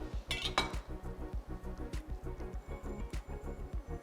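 A knife saws through butcher steak on a plate, making close, steady rapid scraping strokes with occasional sharp clinks of metal against the dish.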